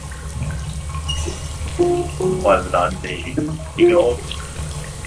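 Water runs steadily from a tap in an embalming room in the Phasmophobia video game, a continuous moderate wash while someone talks over it.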